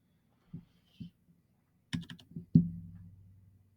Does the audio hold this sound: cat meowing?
no